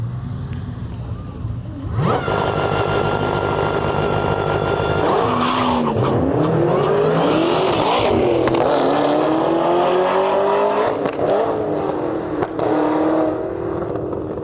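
A 5th Gen Camaro ZL1 with a 416 stroker and Magnuson blower launches against a nitrous New Edge Mustang at a drag strip, engines roaring loud and close with tire squeal and a brief bog at launch, rising as both cars pull away.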